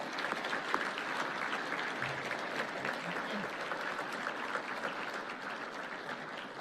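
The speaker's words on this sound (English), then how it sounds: "give all of these individuals and all of our fantastic researchers a round of applause" Steady, sustained applause from an audience at a university State of the University address, evenly textured and moderately distant, continuing throughout without interruption.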